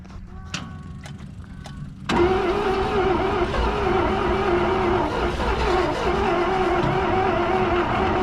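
An old engine fitted with fresh spark plugs cranks briefly, then catches and runs steadily at a loud, even level for several seconds, with a few faint clicks before it fires.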